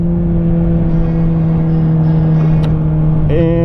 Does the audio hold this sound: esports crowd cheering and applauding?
no